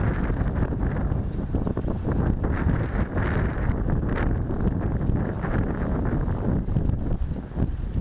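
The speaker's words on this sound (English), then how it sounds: "Look, that's the wind." Strong outdoor wind roars and buffets the microphone continuously, a dense rumbling rush that never lets up, with gusts swelling throughout while a small toy quadcopter is flown nearby.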